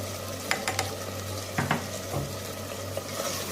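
A spoon stirs dahi chicken with a teaspoon of garam masala powder in a pan after high-flame frying, giving a few scraping clinks over a steady low sizzle and hum.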